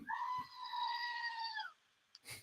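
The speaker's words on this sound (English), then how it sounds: "oh, there's Marty's favorite goat" A goat bleats once in a long, nasal, wavering cry lasting over a second, fairly close and clear, with a short noise just after.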